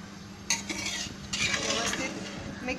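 Chicken masala being stirred in a pot with a metal spoon, scraping and clinking against the sides in a few bursts over a low steady background hum.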